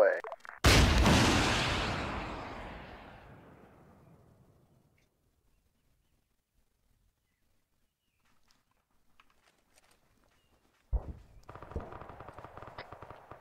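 A laser-guided missile launches with a sharp, loud blast that decays into a long fading roar and then silence, followed about ten seconds later by the distant thud of the impact and crackling aftermath.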